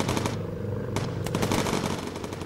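A machine gun firing incendiary rounds in the video game Bomber Crew, shown as a steady, loud stream of rapid shots across the whole stretch.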